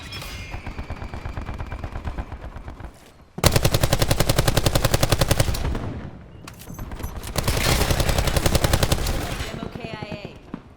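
A hostile strafing run in the first-person shooter Black Ops 4 during team deathmatch on the Hacienda map brings long bursts of loud, rapid automatic gunfire. A short gap falls between two sustained volleys, and a game voice is briefly heard.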